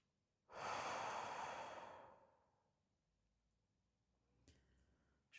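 Slow guided breathing during a meditation session: one long, loud, airy exhale up close that fades gradually, followed by quiet and a faint soft breath near the end.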